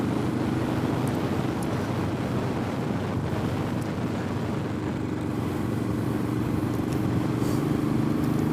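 A Royal Enfield motorcycle ridden along cold country roads, its engine giving a steady low drone beneath heavy wind rush across the microphone, continuous and close throughout.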